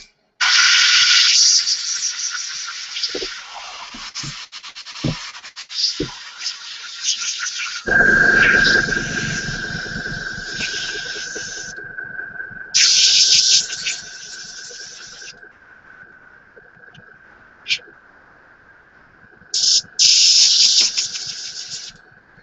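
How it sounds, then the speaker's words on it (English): Spray paint hissing onto a 1/72 scale SU-34 model kit: several loud bursts of hiss start and stop, with a short steady stretch in the middle and quieter pauses between. "Just spraying her out."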